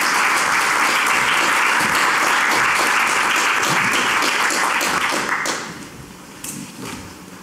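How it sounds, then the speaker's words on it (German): A lecture audience applauds Professor Ehlers at a talk on geoinformation and demographic change: dense, sustained clapping that holds steady, then thins and fades to a few scattered claps. "Das ist Ihr Beifall, Herr Professor Ehlers."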